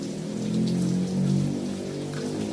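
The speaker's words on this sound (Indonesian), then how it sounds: "di sini cuacanya lagi hujan ya, jadi ada gemericik air hujannya" Rain patters steadily outdoors, a continuous soft hiss of drops that stays at an even level throughout with no voices.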